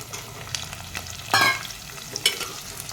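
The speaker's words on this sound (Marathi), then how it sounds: "गाजर इथे टाकलाय आहे थोडंसं परतून घेते मी" Onion, carrot and other vegetables stir-fry in oil with a continuous close sizzle, punctuated by a few louder scraping bursts from a spatula moving them around the pan.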